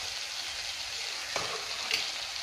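Sliced onions fry and wilt in a pan for Kerala egg roast, a soft continuous sizzle with a couple of brief stirring scrapes, close and unaccompanied by speech.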